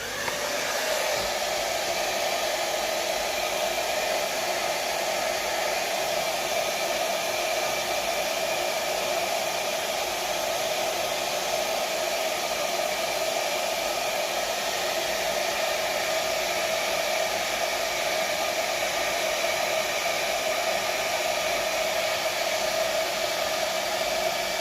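Hair dryer blowing cold air for beard styling, a steady, loud, close whooshing whine that runs unbroken from start to finish with no talk.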